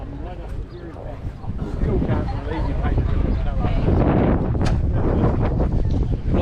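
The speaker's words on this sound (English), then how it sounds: "It's a very windy day." Strong wind buffets the microphone on a windy day at Onemana Beach during a classic car parade. The rumble is loud and constant and builds after a couple of seconds, with faint voices partly buried beneath the gusts.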